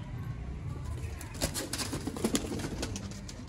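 A Sialkoti breeder pigeon, a well-known 'number 100' bird, coos faintly and intermittently amid a steady hiss of coop noise.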